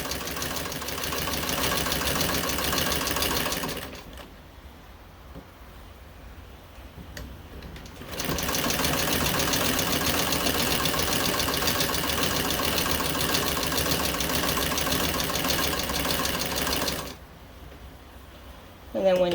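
A White treadle sewing machine stitching fabric, turning a corner: a rapid, steady mechanical ticking and whirring that runs in long stretches, pauses twice, then resumes, with a person talking over it.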